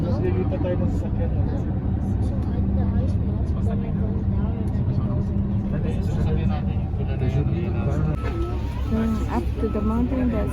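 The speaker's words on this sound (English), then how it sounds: "That's our bus, the same bus as we're riding." Steady low engine rumble of a large bus running throughout on a trip to the Columbia Icefield, with people talking over it.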